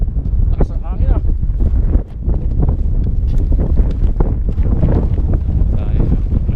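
Strong wind buffets the microphone in steady loud gusts while mountain biking near Africa's highest waterfall, with people talking over it.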